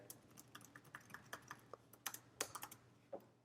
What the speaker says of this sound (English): So you're typing something, you know, let's just type some nonsense here,